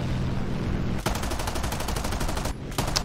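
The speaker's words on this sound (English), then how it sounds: "I really hate shooting at this angle." Rapid machine-gun bursts from an XP-50 fighter plane in an aerial dogfight video game, loud and continuous over engine drone, with a brief break and then a final short burst.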